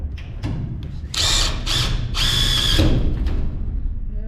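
A power drill whirs in several short bursts, then a longer continuous run, close by with low rumbling background, during a Challenger II refurbishment.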